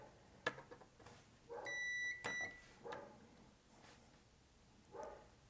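A digital multimeter in continuity mode gives a single steady beep lasting about half a second. It sounds close and clear over a quiet background, along with a few faint clicks and taps from the probes.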